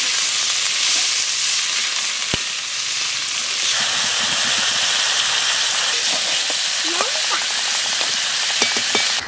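Onions fry in a pan during village-style cooking of a stingray fish curry, giving a constant loud sizzle and hiss with scattered small pops and crackles, no voices over it.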